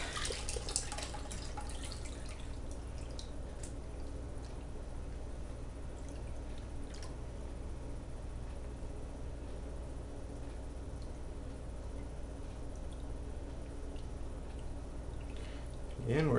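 A gold pan swirled in water while testing Eureka Joe's paydirt, giving a steady, continuous sloshing wash under faint speech, with a louder splash at the very end.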